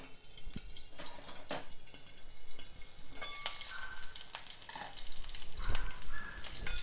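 Mustard seeds, cumin, green chillies and curry leaves frying in hot oil, a steady loud sizzle with popping crackles and a few clinks of a spoon against the pan.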